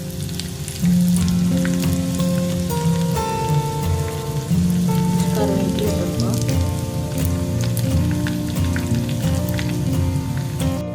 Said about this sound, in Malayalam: അര ടേബിൾ സ്പൂൺ കടുക് ഇട്ട് ഇതിലേക്ക് എനിക്ക് ചോറുള്ള എരിഞ്ഞത് രണ്ട് ചോറുള്ള എരിഞ്ഞ് കൊടുക്കാം അതുപോലെ തന്നെ രണ്ട് വറ്റൻമുളക് ഇട്ട് കൊടുക്കാം